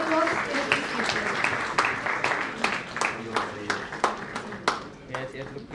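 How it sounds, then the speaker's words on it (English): Scattered, uneven clapping from an audience at an award ceremony, with distinct individual claps standing out over a soft crowd bed and a voice faintly audible beneath. "Please offer your sincere applause in appreciation."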